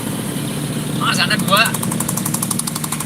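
A motorcycle engine with a loud exhaust rumbles and pulses close by on a busy road to Sekumpul, Martapura, staying constant beneath a voice.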